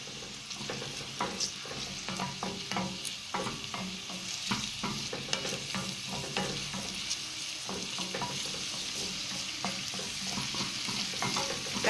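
Chopped vegetables frying in a pan as the base for a fish stew, a steady close sizzle with frequent scraping and stirring clicks throughout, no voices.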